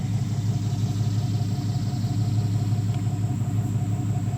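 An International 3500A industrial backhoe with a diesel engine and shuttle shift transmission idles steadily nearby, a continuous low rumble with an even, unbroken throb throughout.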